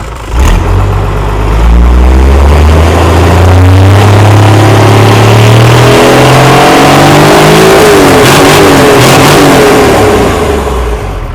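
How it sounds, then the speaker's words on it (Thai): A car engine revs up hard and holds at high revs, loud and close, with rising and falling pitch sweeps, then eases back down. "เดี๋ยวพี่เขาจะเร่งให้ดูนะครับ"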